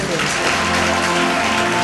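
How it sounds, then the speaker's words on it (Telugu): Loud, continuous clapping from a crowd at a religious gathering, dense and steady throughout, with a low background hum beneath it. "గట్టిగా చప్పట్లు కొట్టండి"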